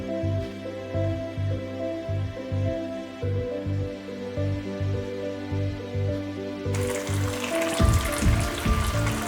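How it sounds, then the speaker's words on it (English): Crushed tomato sauce simmering over medium heat in a pan for pasta all'amatriciana, a steady close bubbling and sizzling patter that continues evenly, with a brief louder burst of activity near the end. "Let your sauce simmer for a while on a nice medium heat"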